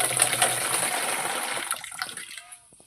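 Water gushing and splashing as it is fetched for watering plants, a steady broadband rush for most of the moment that tapers off near the end, close and moderately loud with no talking.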